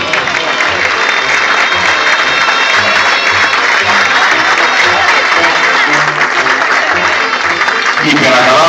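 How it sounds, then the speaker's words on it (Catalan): Audience applause after a school sardana dance, a fantasy galop at a sardana contest in Agramunt: dense, loud, sustained clapping from a crowd with voices mixed into it. "que jo crec que es mereix un fort aplaudiment"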